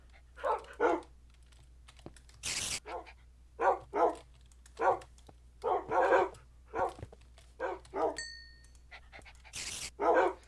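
Tamed dogs in the Minecraft video game pant and bark in repeated short bursts, with keyboard typing clicking steadily underneath; the sounds are close and fairly loud.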